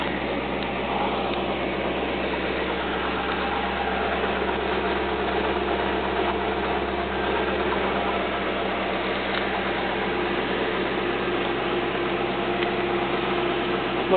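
2003 Maserati GT with a Ferrari engine idles steadily, a continuous smooth mid-pitched hum with faint vibration, heard close and unbroken throughout without speech.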